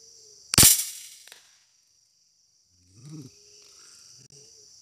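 A single sharp, loud air-gun crack fired at birds in a banyan tree outdoors, followed by a short decay, over a constant high insect drone, with faint brief calls a few seconds later.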